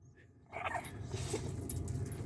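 A dog barks and yips near a winter carp fishery, with short bursts of sound starting about halfway through and continuing over steady low outdoor background noise.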